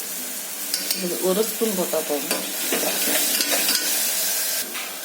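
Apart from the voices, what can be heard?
ginger garlic paste frying in a pan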